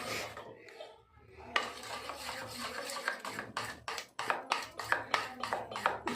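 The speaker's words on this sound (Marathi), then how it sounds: "हे पहा, असं मिक्स करून घ्यायचं हे सगळं" A spoon scrapes around a bowl in quick rhythmic strokes, mixing a thick soybean chilli mixture with ginger-garlic paste; the strokes grow steadier and more regular toward the end.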